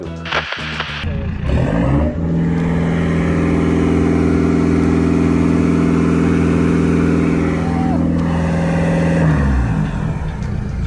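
A Ford Focus RS, tuned to sound like a 1970s Mustang, rumbles close by with a deep, steady exhaust note after a brief rev, holding for several seconds before the engine dies down.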